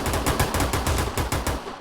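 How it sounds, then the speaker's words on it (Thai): Rapid bursts of automatic gunfire in the video game Free Fire rattle continuously, rhythmic and loud, the shots blending into a dense stream of cracks. "เสียงปืนบนหลังคาแน่นอนเฮ้ย"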